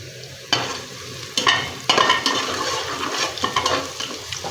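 Cumin seeds hit hot oil in a pan and crackle into a loud sizzle, with several sharp bursts of spattering and stirring scrapes over a continuous frying hiss.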